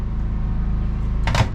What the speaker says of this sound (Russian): Микроволновка теперь работает.